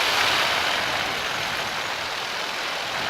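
A paramotor engine in flight holds a steady, loud broadband drone throughout with no clear rise or fall, as the throttle is eased back.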